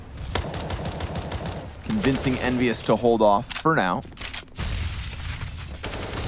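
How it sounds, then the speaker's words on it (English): Rapid rifle gunfire bursts and cracks from a CS:GO match between EnVyUs and Na'Vi on Nuke, repeated shots punctuating the action while a caster talks over it. "A lot of utility being exchanged, a lot of gunfire being exchanged."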